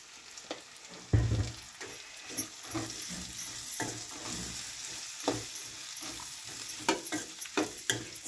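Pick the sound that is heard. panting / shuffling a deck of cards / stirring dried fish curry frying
stirring dried fish curry frying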